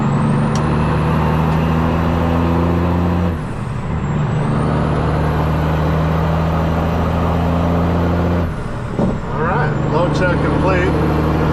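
A heavy truck with air brakes ahead in a snowstorm, heard from a following vehicle: steady low engine drone, with two hissing air-brake releases partway through and near the end, alongside a high whistle.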